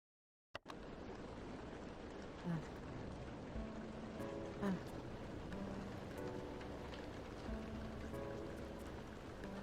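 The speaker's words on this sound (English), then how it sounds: "Turn the rain off." Steady rain falls throughout in a virtual game space, a constant dense hiss with a few soft bumps, starting abruptly after a brief silence.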